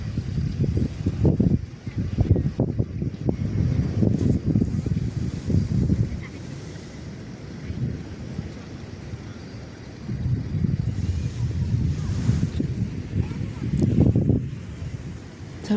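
Gusty wind buffets the microphone in uneven surges, rising and falling over an outdoor background at a birthday bonfire gathering, with a few faint voices at a distance.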